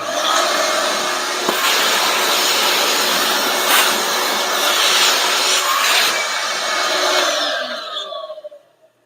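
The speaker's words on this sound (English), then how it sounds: "We're going to do a little bit of vacuum here to get those out." A shop vacuum draws metal chips out of an MH51B fuel tank being prepped, giving a steady loud whining roar for most of the stretch with a few brief knocks, then winding down near the end.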